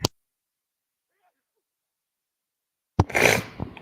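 A single sharp sneeze bursts out after nearly three seconds of silence, close and loud, followed by a brief exhale.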